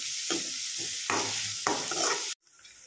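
Chopped onions sautéing with ginger and green chilli in a pan for masala dosa filling, a steady sizzle broken by several rhythmic spatula stirs, close up, ending abruptly.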